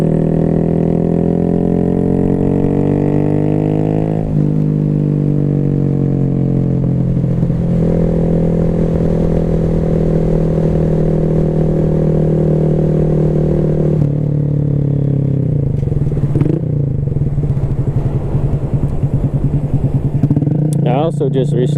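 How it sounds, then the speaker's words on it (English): A Honda Grom motorcycle engine revs high and holds a loud, buzzing whine, climbing and dropping in pitch several times, close by. "this bike just starts to scream when it gets into that"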